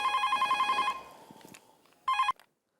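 A phone rings in a steady repeating electronic trill for about a second, goes quiet, then gives one more short burst of ringing.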